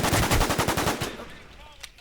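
Rapid automatic gunfire from the shooter video game War Inc Battlezone, a loud close burst of about a dozen evenly spaced shots that stops abruptly, followed by a quieter tail with a faint click.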